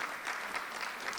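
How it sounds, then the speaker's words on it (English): Gala audience applause for sponsors at a World Unity event: a brief, even burst of many people clapping together, moderately loud, with no talk over it. "So let's give a big round of applause to them."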